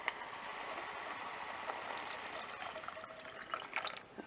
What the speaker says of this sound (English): I'm going to be adding in my chicken broth right here